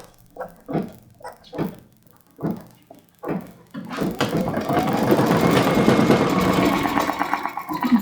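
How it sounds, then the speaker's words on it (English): A domestic sewing machine stitches an outline design on a Hoffman Dream Big quilt panel, first a few slow separate thunks and then a steady, close, continuous mechanical whir of rapid stitching with no talking. "I'm going to go ahead and stitch the outline design"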